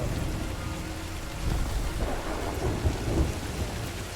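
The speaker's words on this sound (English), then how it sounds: "Blitz lightning cracked the spire" Storm in the pirate video game Sea of Thieves: steady rain with low rolling thunder, a constant moderate wash that swells slightly midway, without any talk.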